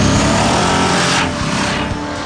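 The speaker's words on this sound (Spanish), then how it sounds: "La Multiestrada, una motocicleta deportiva." A Ducati Multistrada sport motorcycle engine roars loud and close, then the revving fades as the bike pulls away, heard on its own without speech.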